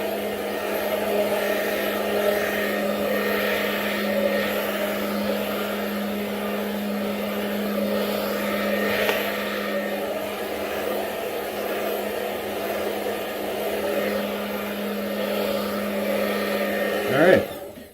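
A handheld hair dryer blows steadily for a beard or hair straightening session, a constant close whirring hum that holds its pitch throughout, ending with a brief rise in airflow.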